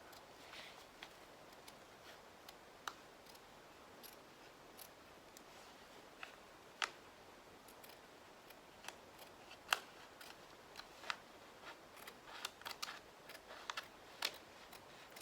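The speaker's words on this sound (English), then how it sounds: "cut around again the outer edge of the template" Scissors snip around the outer edge of a paper template for a woven Danish heart basket. The cuts come as quiet, irregular clicks spread steadily over a long stretch, with some sharper snaps standing out.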